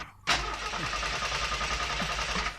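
Stalled car's engine cranking and catching abruptly after a brief quiet moment, then running unevenly at idle, heard close but fairly faint.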